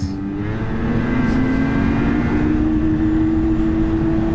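A 2024 Ski-Doo XRS snowmobile engine drones steadily and loudly up close on a night trail ride, holding a constant pitch with no break.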